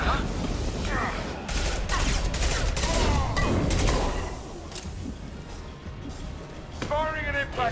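Rapid bursts of gunfire in Mass Effect 2, dense overlapping shots with heavy impacts through the middle, fading to scattered reports, with voices talking over the fight.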